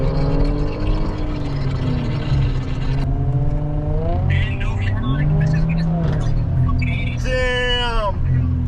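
A car with no catalytic converter at a Chicago street car meet, a loud engine rumbling and revving with rising and falling pitch close by, mixed with overlapping voices talking.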